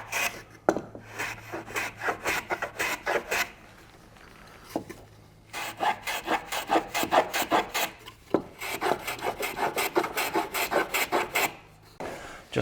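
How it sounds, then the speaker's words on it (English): A hand tool rasps rhythmically along the edges of wooden tenons for a boat frame, putting on a chamfer in quick back-and-forth strokes. Two bursts of strokes are separated by a short pause, close and fairly loud. "Now I'm just going to put a little chamfer on the edge of them just to ease them into that"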